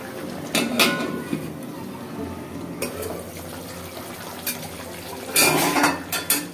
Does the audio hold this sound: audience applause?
no